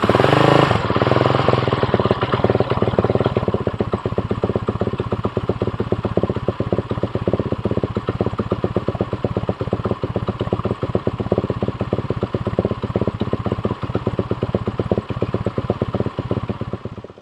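A Suzuki LTR 450 quad's engine fires up and settles into a loud, close, fast-ticking idle that holds steadily for over fifteen seconds with no talking.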